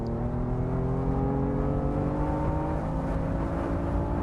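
BMW M4 engine in the Assetto Corsa racing game, a steady loud drone with smooth rising harmonic tones as the car accelerates at speed, heard on its own.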